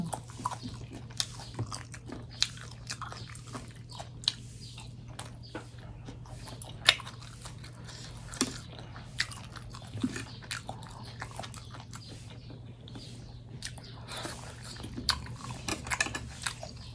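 Someone chews crunchy cow skin salad dressed with fermented fish sauce, close to the mic. The bites come as repeated crisp, crackly crunches against a quiet room hum, with an occasional faint clink of cutlery.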